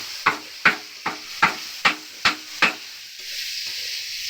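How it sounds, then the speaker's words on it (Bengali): Tomato and spice masala frying for a snail curry on a wood-fired stove, with seven evenly spaced spatula strikes against the pan over a soft sizzle that continues alone afterward. "খুব সুন্দর মশলাটা যখন কষানো হচ্ছে"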